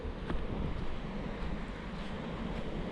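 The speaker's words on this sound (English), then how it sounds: "Beach from Wahin city, Thailand." Wind and surf wash over a beach at Hua Hin, Thailand, a steady, fairly faint rush of broadband noise with no clear individual wave breaks.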